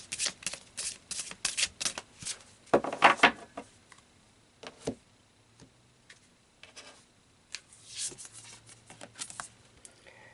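Tarot cards are shuffled in quiet, papery bursts of riffling and flicking, close by and intermittent, with brief pauses between handfuls.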